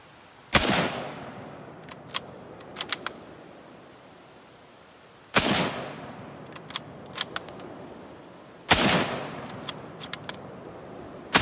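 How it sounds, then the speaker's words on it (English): A Springfield 1903-A3 rifle firing .30-06 rounds at a range: three loud, sharp shots spaced a few seconds apart, each followed by a decaying echo and smaller metallic clicks from the bolt being worked. "We took it to the range, we fired a few rounds through it."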